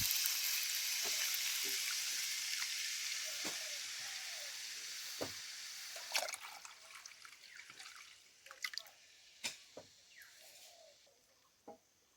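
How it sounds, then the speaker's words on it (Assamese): Starfruit juice heats in a wok for jam, a soft steady sizzle fading gradually, followed by scattered scraping and clinking taps as it is stirred, quiet and close with no talking. "ৰসখিনি এনেদৰে লৰাই আছোঁ।"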